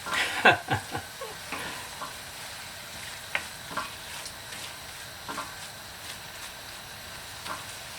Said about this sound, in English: Can hear that sizzling.